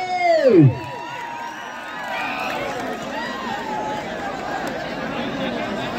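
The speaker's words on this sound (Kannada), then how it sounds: "ಒಂದ್ಸಲ ಜೋರ ಚಪ್ಪಾಳೆ" A crowd at a men's division kabaddi final between Belagavi and Bagalkote roars with cheers and applause, a steady mass of noise that follows a short descending whistle-like tone, with a commentator's voice running over it.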